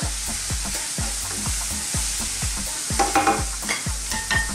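Vegetables sautéing in a pan over medium-high heat, a steady sizzle broken by a regular rhythm of low thumping stirs and scrapes, close and alone.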